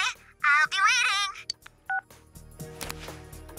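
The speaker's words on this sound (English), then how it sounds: "You ended the phone call." A phone-call hang-up effect from the video game Persona 4 Golden: a bright warbling electronic tone sequence, then a couple of short beeps and low clicks, clear and alone without talk.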